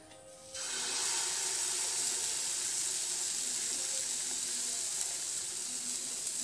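Ragi-chocolate pancake batter hits a hot greased pan with a sudden loud sizzle that starts abruptly and holds as a steady, bright hiss close by.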